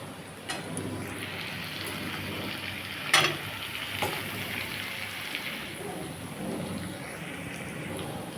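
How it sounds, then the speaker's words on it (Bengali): Drumstick stalks and potatoes sizzle in a pan for rohu fish curry, a steady close frying hiss with a few sharp clinks and scrapes as the pan is stirred. "এবার আমি ডাঁটাগুলো দিয়ে দেবো"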